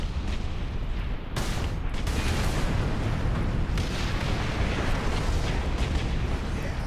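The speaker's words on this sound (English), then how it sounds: "red barrels explode" Red barrels exploding in Warhammer 40K Space Marine amid heavy combat, a constant dense roar of blasts and gunfire with sharp bursts near one and two seconds, loud and unbroken throughout.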